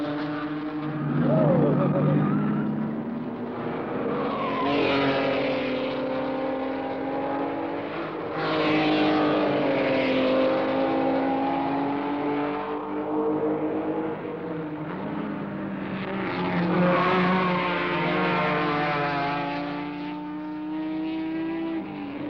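Datsun race cars fight for third place at a 1971 American Road Racing Championship event in Georgia. Several engines rise and fall through the gears as the cars pass, loud and sustained, with a faint voice underneath.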